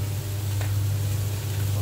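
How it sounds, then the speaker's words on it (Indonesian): Chicken pieces and fresh raw mushrooms fry together in a pan, giving a steady, close hiss of sizzling over a constant low hum, with no talking. "goreng lagi sampai merona ya"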